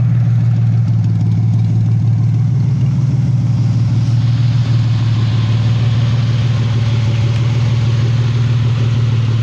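A Nissan VG33 V6 idles steadily and loud after a Seafoam treatment, with the earlier lifter tick now nearly gone, leaving a smooth low hum with faint mechanical ticking and no talk.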